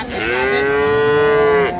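A single cow at a cattle market gives one long, loud, steady moo lasting over a second, close by and clear, with no talk over it.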